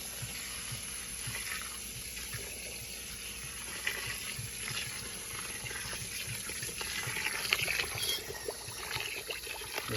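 Water runs steadily from a tap or hose into a container of oat chicken feed, a continuous close hiss and splash with no talking.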